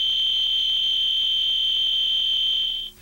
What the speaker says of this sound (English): The fire alarm is a loud, steady tone.